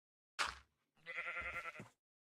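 A sheep in the Minecraft video game bleats twice, a short bleat and then a longer wavering one after a brief pause, clear and close with nothing else audible.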